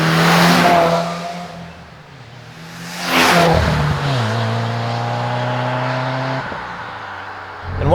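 A Subaru WRX fitted with an AWE catback exhaust revs hard, drops back to a steady idle-like drone, then blips again, loud and close with no talking.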